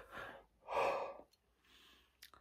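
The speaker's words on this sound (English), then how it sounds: "Sorry about the yawn" A tired person yawns aloud, a long breathy voiced exhale swelling in the middle and trailing off into quieter breaths, with no talking.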